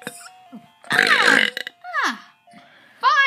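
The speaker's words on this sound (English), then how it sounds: "You just burped" A long, loud, croaking burp rumbles for about half a second, followed by squeaky, warbling vocal noises and another strained gurgle.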